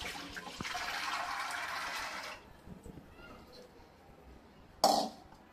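Water gushes into a pressure cooker holding soaked peas, a loud pouring rush lasting about two seconds, then quieter kitchen handling and a brief clatter near the end.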